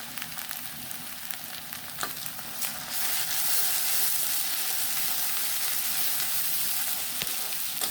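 Cumin paste frying with spices and garlic paste in a pan for a country rooster curry, a steady close sizzle that swells louder partway through, with brief scraping stirs and no talk.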